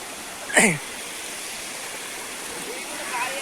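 Strong floodwater rushes through a village, a steady broadband roar of flowing water throughout, with a brief voice cutting in near the start.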